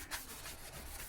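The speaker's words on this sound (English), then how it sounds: "So just wipe that down." Cloth rubbing across a sanded wood surface to clear away sanding debris, a soft, steady swishing scrub, close and faint.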